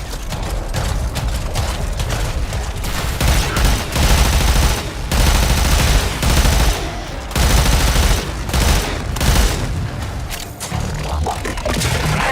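Warframe gameplay with dense, loud gunfire, rapid automatic bursts and booming shots that overlap almost without pause, plus thuds; no talk.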